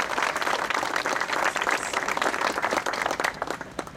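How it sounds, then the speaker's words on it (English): A crowd applauds at a ceremony for the Bruce Freeman Rail Trail, with dense, fairly loud clapping throughout that grows more uneven toward the close. "I'd like to give a round of applause"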